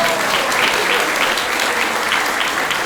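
A large audience at an award ceremony in Olsztyn applauds a winning children's hospital. The clapping is loud, dense and continuous throughout, with no voices above it.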